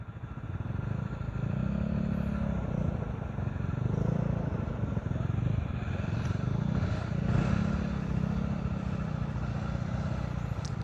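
A motorcycle engine drones continuously through a ride, steady and loud with rumbling road and wind noise throughout, and no clear speech over it.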